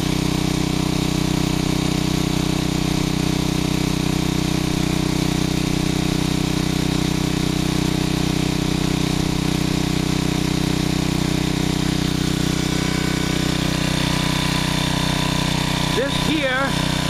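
Generac 750 watt portable generator idles steadily with the choke fully open and no surging, a loud, constant close engine drone throughout, with a brief voice breaking in near the end.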